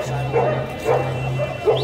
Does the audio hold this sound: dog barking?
yes